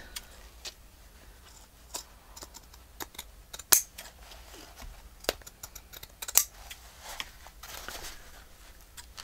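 Quiet, scattered snips of scissors cutting, a few sharper clicks standing out against a faint background.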